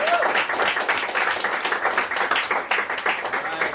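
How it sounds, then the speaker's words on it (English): An audience at a poetry night in the Rialto Theatre gives a steady round of applause, a thick wash of clapping with some faint voices mixed in underneath. "I know you just stopped clapping, but we still got to give it up one more time for TaJuan, sKai."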